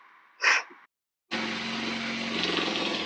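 A power tool whirs steadily during DIY repairs on a canal narrowboat. It starts abruptly after a brief soft noise and a pause, then holds a loud, even buzzing hum.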